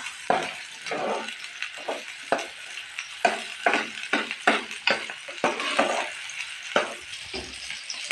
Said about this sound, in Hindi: दाल के ऊपर तड़का लगाएंगे।